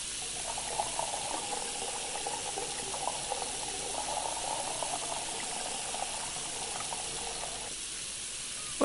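Water tap filling in the Cooking Simulator game during pizza making, a steady close rushing hiss of running water that holds evenly for about eight seconds before cutting off abruptly, with no talk.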